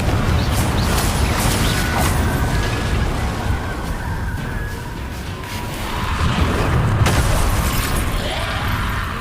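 Confringo spell blasts in Hogwarts Legacy, loud booming explosions with crackling bursts that swell and fade across the whole stretch, with no one talking.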